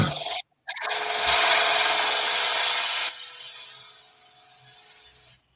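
Firewood being shaped into a chamfer with a tool gives a loud, sustained abrasive rasping after a short pause, fading gradually toward the end.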